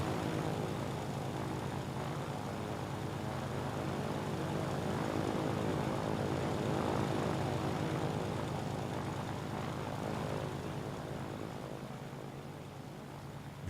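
A B-17 bomber taking off in the game Ground of Aces, a steady, moderately quiet propeller engine drone that swells slightly mid-clip and then eases, heard alone without talk.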